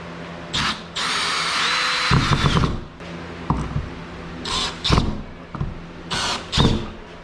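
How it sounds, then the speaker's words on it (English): Power drill boring into a garage wall: a loud sustained whine for about two seconds, then a series of short, close trigger bursts separated by pauses. "You just want to drill this into the wall."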